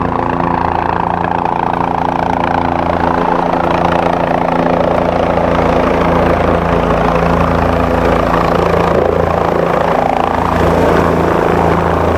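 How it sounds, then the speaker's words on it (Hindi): A nearby passenger helicopter at Kedarnath, just arrived to drop off and pick up pilgrims, drones and whirs continuously, its steady engine and rotor hum filling the scene without any talking. "और आप देख सकते हैं एक हेलीकॉप्टर अभी अभी आया है वहाँ से"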